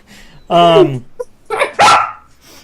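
A puppy barks and yips in a few sharp, loud bursts close by, with a whimpering, harmonic cry among them and people talking nearby.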